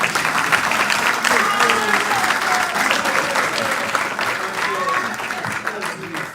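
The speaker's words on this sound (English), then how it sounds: "It's okay to clap." Audience clapping steadily at a professorial inauguration ceremony, a dense sustained round of applause from a crowd throughout, with some voices mixed in beneath it.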